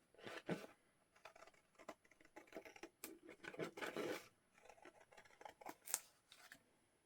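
Quiet, close snipping of scissors through paper, in irregular bursts of cuts with pauses between.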